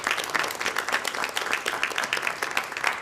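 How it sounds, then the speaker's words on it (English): A live audience at a business event breaks into a steady round of applause, dense clapping filling the room evenly from start to finish with no talk over it. "Let's offer them a round of applause right now."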